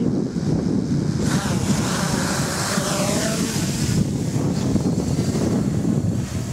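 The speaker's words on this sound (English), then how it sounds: "Be aware, it's pretty windy." Strong wind buffets the microphone outdoors during a quadcopter's first flight, a loud continuous rumble and roar with gusty swells and no talking.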